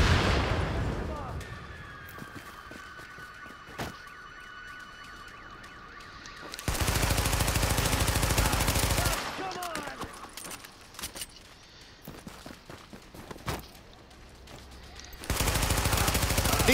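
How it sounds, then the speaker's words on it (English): Automatic weapon fire from Tom Clancy's The Division, with loud sustained bursts at the start, middle and end and quieter stretches of game ambience between them. "I'll just shoot you out."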